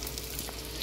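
Zucchini rings frying in hot oil, a dense continuous sizzle with fine crackling, close and steady, no voices.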